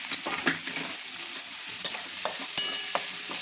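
Capsicum pieces sizzle in a hot pan for pasta while being stirred, with a continuous bright frying hiss and several scraping stirs throughout, close up and without voices.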